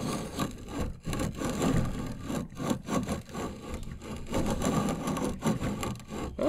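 Hand-operated grain mill grinding wheat into flour, a gritty, scraping grind in uneven rhythmic strokes, close and fairly loud, with no voices.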